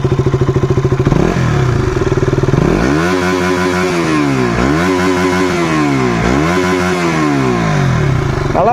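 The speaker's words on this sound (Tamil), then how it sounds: "நான் உங்களுக்கு ஃபுல்லாகவே த்ராட்டல் பண்ணி காட்டுறேன் கைஸ்." A KTM RC200 BS4 motorcycle engine revved at full throttle, loud and close: a steady idle burble swells into repeated rising and falling high-rev sweeps, roughly three long pulls of the throttle.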